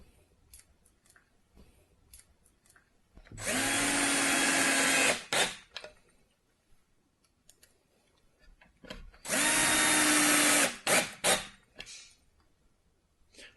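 A power drill drives screws into a Sela CaSela quick assembly kit in two separate bursts of about two seconds each, a loud whirring motor that ends in short trigger blips, with quiet handling noises between.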